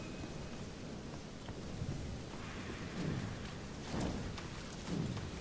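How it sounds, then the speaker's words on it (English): Rain and thunder play in the video game Shadow Warrior 2. Steady heavy rainfall hisses throughout, with low thunder rumbles swelling every second or so. No voices are heard. "Why is it always raining?"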